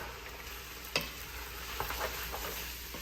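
A Cajun-seasoned mixture with Worcestershire sauce and black pepper is stirred in a sizzling pan, giving a steady close frying hiss with scattered utensil scrapes and a couple of sharper knocks, and no talk.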